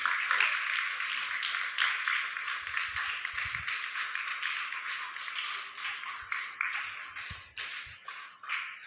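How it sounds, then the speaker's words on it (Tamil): Applause as an audience at a church Vacation Bible School final-day program welcomes a pastor: many hands clapping together in a steady, fairly close patter that slowly thins out over several seconds. "எல்லாரும் கைத்தட்டி ஐயாவை வெல்கம் பண்ணுவோமா?"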